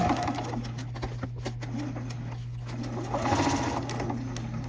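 A sewing machine stitches fabric backed with fusible fleece or batting for a bunting-style zipper pouch, a steady close mechanical whir with a constant motor hum and faint rhythmic needle clicks throughout.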